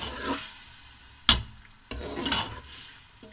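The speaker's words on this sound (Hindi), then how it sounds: "2 टमाटर शामिल कर रहा हूँ और इसे भी भून लेते हैं।" Two tomatoes dropped into frying masala for a goat curry, giving close, loud sizzling and stirring with two sharp clacks of a spoon against the pot. No one speaks.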